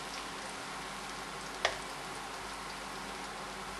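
Onions frying in a pan, a quiet continuous sizzle with one brief sharp crackle partway through.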